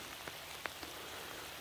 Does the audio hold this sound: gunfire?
no